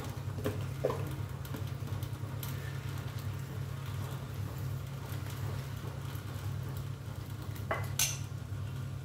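A spoon stirs a cooking mixture of leftover wheat residue from making kurdai in a pan, giving scattered metallic clinks and scrapes over a steady low hum of cooking, with no talk.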